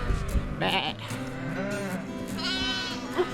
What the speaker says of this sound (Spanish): Mira, mira los corderines, mira.